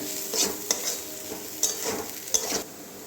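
Coriander powder and turmeric frying with mung dal in a pan, a soft sizzle broken by several sharp scraping stirs of a spatula in uneven rhythm, close up with no talking.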